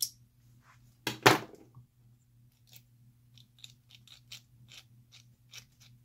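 A ratchet clicks as a bolt is cranked down on a Redcat Gen 7 transmission: two loud bursts of rapid clicking, then a series of quieter, spaced single clicks over a faint hum.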